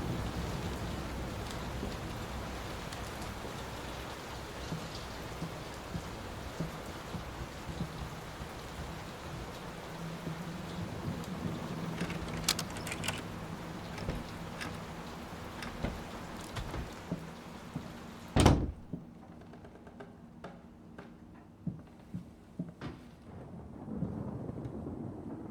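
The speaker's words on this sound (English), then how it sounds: "This storm ever run out of rain?" Steady heavy rain pours throughout a storm in the horror game Layers of Fear, with rumbles of thunder and one sharp, loud crack near the end before the downpour thins to scattered drops.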